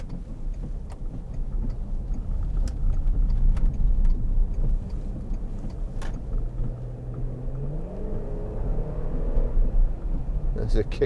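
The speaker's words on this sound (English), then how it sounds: "The engine sounds great." A 2003 Volkswagen Touareg 3.2 V6 Sport on the road, steady low engine and road rumble with a rising whine as it accelerates, while someone talks over it.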